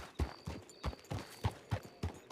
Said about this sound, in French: Je vois du cheval.